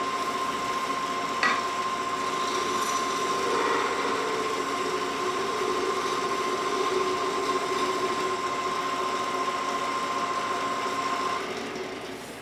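A lathe turns down the diameter of a 3D printed handle with gyroid infill, giving a steady, continuous whirring hum with a faint constant tone. The level stays even throughout, one brief tick lands early, and there is no talk.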